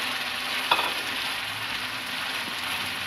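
Peas are added to frying keema masala in ghee, giving a soft, continuous sizzle with a brief stirring clatter near the start, close and fairly quiet, with no voices.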